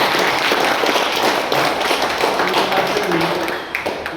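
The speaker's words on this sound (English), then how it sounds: "Please give a huge round of applause" Audience applause at a Toastmasters leadership event, a dense steady wash of clapping with scattered sharper taps that thins slightly toward the end, continuous and fairly close.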